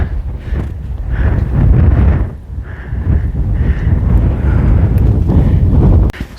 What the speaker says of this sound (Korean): 엄청나게 바람 불지만 맑은 날입니다